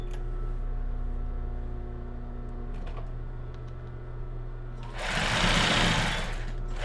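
A sewing machine stitches lace underwear with a steady motor hum and light clicks, then a louder whirring run near the end; no voices.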